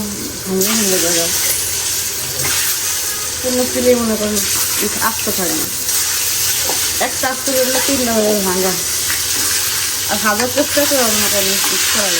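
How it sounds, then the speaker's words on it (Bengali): Eggs fry in a pan with a loud, steady crackling sizzle throughout, while someone talks over it. "আমি এখন এই যে ডিম ভোনা করবো"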